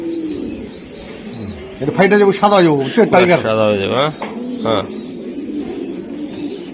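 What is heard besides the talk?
racing pigeons cooing while handled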